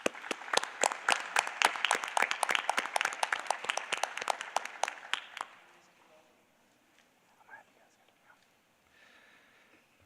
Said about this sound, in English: Let's give her another round of applause as well.